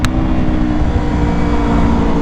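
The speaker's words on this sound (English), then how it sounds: "Let's do a first gear pull. I have never done a first gear pull on this bike." A motorcycle makes a hard first-gear pull, its engine roaring loud and close in one sustained, continuous drone.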